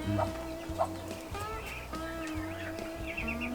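Chickens cluck softly under a heat light on a small farm, short repeated clucks and a few higher calls over a steady low hum, close and moderately quiet with no talking.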